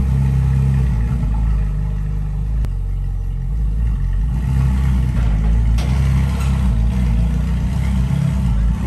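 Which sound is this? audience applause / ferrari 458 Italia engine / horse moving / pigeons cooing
ferrari 458 Italia engine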